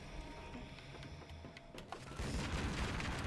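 Shotgun fire from an enemy in Tomb Raider Legend, heard as several sharp bursts over game background sound, ending in a louder, denser stretch of noise.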